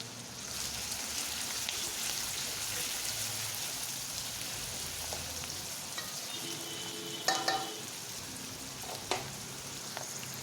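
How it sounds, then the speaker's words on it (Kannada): Chopped onion frying in hot oil for egg fried rice, a steady close hiss of sizzle with scattered crackles and a couple of sharper utensil clinks near the end, no voices. "ಈರುಳ್ಳಿಯನ್ನು ಚೆನ್ನಾಗಿ ಫ್ರೈ ಮಾಡ್ಕೊಳ್ಳಿ"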